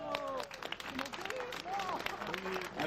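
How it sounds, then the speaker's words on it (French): Scattered applause for cyclist Dylan Kozlowski of WC Rouen 76 at the Tour de la Manche 2014 stage results and awards in Donville, with a crowd clapping steadily beneath ongoing announcer talk and chatter. "Je demande d'applaudir le garçon du WC Rouen 76, Dylan"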